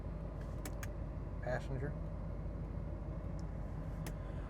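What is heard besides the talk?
1991 Ford Bronco engine running after start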